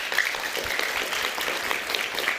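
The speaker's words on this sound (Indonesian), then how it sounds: "Kita berikan tepuk tangan untuk Liga Akbar." An audience applauds for Liga Akbar, a key witness, on a televised Indonesian talk show; steady, dense clapping fills the whole moment without pause.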